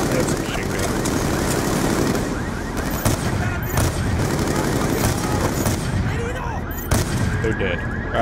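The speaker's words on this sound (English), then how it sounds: "Oh, that's a machine gun." Sustained machine gun fire from the video game Call of Duty Black Ops 2, with dense rapid bursts and booming impacts filling the battle scene, loud and continuous over game speech.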